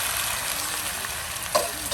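Beans sizzle and fry in a pan with crispy fried onions, a steady loud hiss with light stirring scrapes throughout, outdoors by a river.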